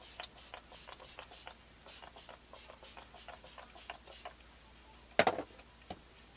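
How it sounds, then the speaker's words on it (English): Setting spray misted onto the face, a rapid run of short, soft, close hissy pumps followed by one or two sharper bursts near the end, faint and with no talking. "I'm just going to do a couple sprays throughout the face."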